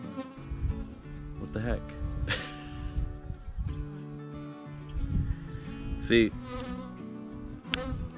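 Bees buzzing around beehives during hive feeding, a close steady drone with harmonic whine rising and falling as insects pass near, under brief spoken exclamations.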